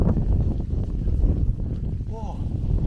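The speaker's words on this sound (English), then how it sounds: "It's got quite windy now." Wind near the summit of a fell in the Lake District, gusting steadily against the microphone as a low rumbling buffet, with a person talking faintly over it.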